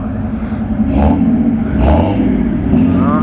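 A car engine revs in bursts at an outdoor cars-and-coffee meet, two loud swells near the listener over a steady idling rumble and crowd hubbub.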